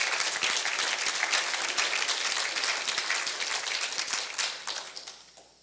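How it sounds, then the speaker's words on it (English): A church congregation claps loudly in a dense, sustained burst of applause that carries on steadily and then tapers off near the end. "You can clap for that,"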